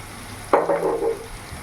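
Onions shallow-frying in a pan are stirred once, giving a brief sizzling scrape that swells and fades within under a second over a quiet steady hiss.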